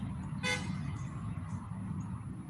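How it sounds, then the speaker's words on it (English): One short car horn toot sounds from a distance, over a low rumbling background. "You hear that car beeping?"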